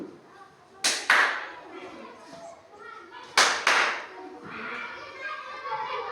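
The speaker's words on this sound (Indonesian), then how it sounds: "Masih tepuk 2 kali kan?" Two pairs of sharp hand claps given as a command to a classroom robot, each pair a quick double clap, with children's voices and murmuring around them.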